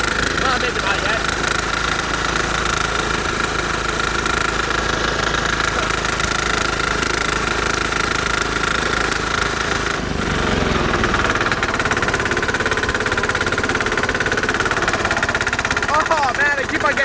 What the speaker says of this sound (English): Oh man, I keep on getting snow in the blower.